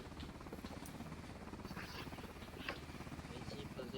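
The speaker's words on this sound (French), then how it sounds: "Montez dans l'hélicoptère." A helicopter's rotor throbs in a steady, continuous drone throughout, moderately loud, with faint voices talking in the background.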